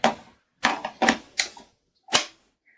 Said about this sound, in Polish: Jednym klikiem zakładamy go i jednym klikiem demontujemy.